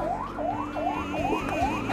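An ambulance siren, heard from inside the vehicle, sounds loud and close, repeating quick rising electronic yelp sweeps about twice a second over a low engine rumble.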